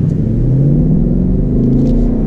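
A 2019 Ford Mustang GT PP2 V8 rumbles loud and close, accelerating with a rising engine note that shifts in pitch midway, with no talking.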